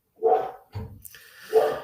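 A dog gives two short barks with a brief rustle between them, close and fairly loud, with no voices over it.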